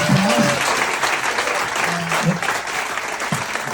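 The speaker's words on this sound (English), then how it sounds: "let's give Nick a round of applause" Audience applause at a book launch celebration in a bookstore, steady dense clapping from a crowd throughout, with a few faint voices underneath.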